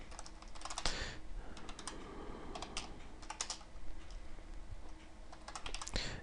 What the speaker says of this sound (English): let me finish typing this out here